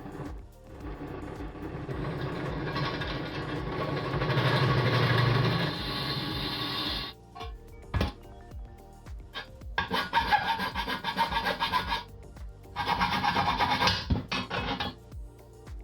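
Drill boring through a 10mm thick aluminum shoe with a 10.5mm bit, a harsh grinding rasp in long stretches broken by pauses and short bursts, close and steady with no voices.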